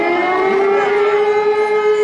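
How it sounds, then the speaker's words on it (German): A loud, sustained fire brigade siren wail holding a steady tone with slight pitch sweeps, continuous and close throughout. "Sirene und Melder lösen aus."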